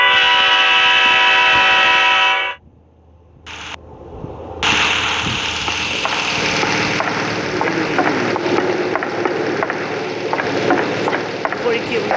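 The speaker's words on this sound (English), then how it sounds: "You can sound the horn." A cargo train horn in a video game blares steadily for about two and a half seconds, then gives way to a brief quiet and a loud rumbling, clattering run of train noise that continues to the end.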